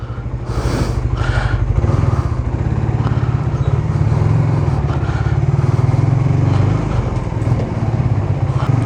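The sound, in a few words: Suzuki Raider Fi 150 motorcycle engine running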